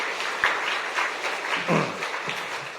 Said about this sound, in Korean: 우리 잘하라고 다시 한번 박수하겠습니다